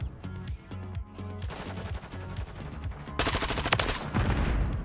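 Rapid bursts of Vaznev automatic rifle fire in a Modern Warfare 3 Hardpoint match, several quick volleys growing louder and denser toward the end, with no voices over them.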